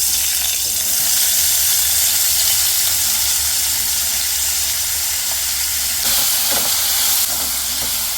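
Cucumber pieces for cucumber chutney frying in hot oil give a steady, loud sizzle and hiss throughout, with a few brief stirring scrapes and no talk.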